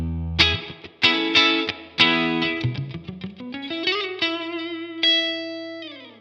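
An electric guitar through the USA voice of a Blackstar Amped 1, modeled on a Fender Deluxe Reverb 65, plays clean, bright strummed chords and single notes with a touch of chorus and reverb, ending on a sustained ringing note.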